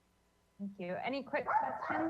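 A dog barks and yips in the background of an online public meeting of a city street subcommittee, its noise overlapping a person speaking close to the microphone.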